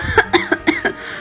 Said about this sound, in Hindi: वो जमीन पर गिर पड़ी और जोर जोर से खांसने लगी।